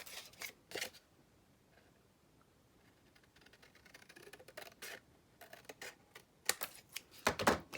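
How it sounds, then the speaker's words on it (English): Scissors cutting paper for a pop-up post-it note purse: quiet, sparse snips and crisp clicks in a still room, with a few sharper cuts clustered near the end. "Then you're just going to cut from the little mark here down to the corner"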